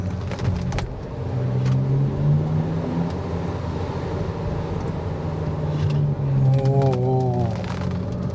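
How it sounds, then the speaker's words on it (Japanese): An Abarth 500e electric car on a mountain pass road accelerating hard and then lifting off, giving a rising synthetic engine-like tone that swells and falls away, heard from inside over steady road and wind noise, with brief chatter near the start. "アクセル思いっきり踏んで離した時の音"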